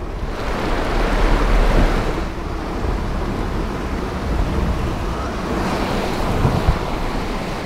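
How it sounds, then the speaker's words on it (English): A four-wheel drive vehicle fords a river on the new road to Zanskar, with loud, continuous rushing water and gusty wind noise close to the microphone throughout, surging and easing in places. "here we are at our first river crossing at the Lakhang, and this is the reason why nobody came on this road"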